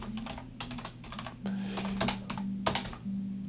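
SQL is typed on a computer keyboard in quick, irregular bursts of close key clicks over a steady low electrical hum.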